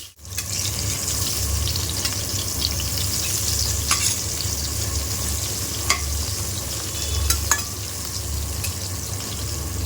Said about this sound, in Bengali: গরম গরম বেগুন ছেড়ে দিলাম